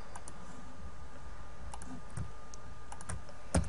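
A computer mouse clicks quietly and sporadically, a few light, sharp taps spread over a few seconds against a low, steady background hum.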